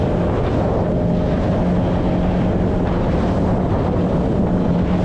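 A Suzuki DF100B four-stroke outboard drives a boat at 60 km/h around 5,400 RPM, a steady loud engine drone with a low hum tone under constant wind rush and water noise, no speech.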